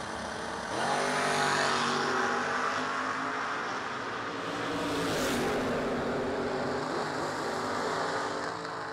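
Drag race cars, a red Camaro and a Chevy II, roar loudly and continuously, engines revving and surging as they launch down the strip, with the sound swelling and easing over several seconds.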